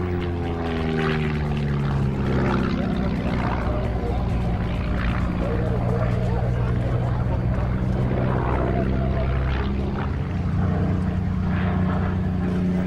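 Bücker Jungmann biplane flown at an airshow, its propeller engine droning steadily at moderate distance throughout, with someone speaking over it.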